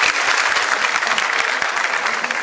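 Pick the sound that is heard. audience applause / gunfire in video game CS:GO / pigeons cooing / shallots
audience applause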